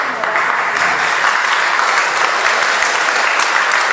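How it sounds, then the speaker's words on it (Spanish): An audience at a spiritual seminar breaks into loud, sustained applause, a dense wash of clapping from many hands that holds steady throughout without a break. "Un fuerte aplauso a nuestros voluntarios."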